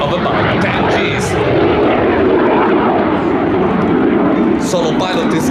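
An Aermacchi MB-339 jet performing in a Frecce Tricolori aerobatic airshow display at Cold Lake Airshow 2024 produces a steady, loud, broad engine roar throughout, with an announcer talking over it.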